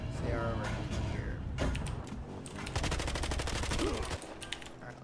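Rapid bursts of gunfire from a firefight in the video game Battlefield Hardline, with dense repeated automatic shots and mechanical clatter, loud and continuous, with a voice briefly underneath.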